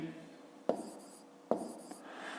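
A pen writing numbers on paper for a fifth-grade math subtraction exercise, with two sharp taps and short scratchy strokes, close and quiet, as a low voice murmurs faintly in the background.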